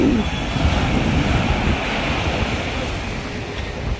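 Strong wind buffets the microphone over the steady wash of surf, a loud continuous roar with no clear gaps.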